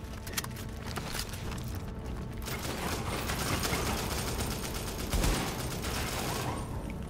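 Dense video-game gunfire rattles continuously at close range, a rapid fusillade of shots with mechanical clicks, steady and loud throughout with no pauses.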